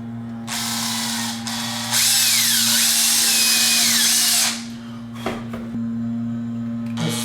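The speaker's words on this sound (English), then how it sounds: "So I'm just gonna go and drill the start of it." A power drill bores into ABS plastic on a Cookie G4 helmet mount, loud whirring bursts with rising and falling pitch, a sustained run of about two and a half seconds, then a short pause and brief clicks.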